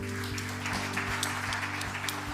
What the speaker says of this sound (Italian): Possiamo dare un applauso al nostro Signore?